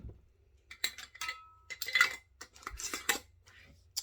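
Metal canning jar lids and rims being tapped for canning potatoes, a series of light clinks and taps in short bursts, close and fairly quiet.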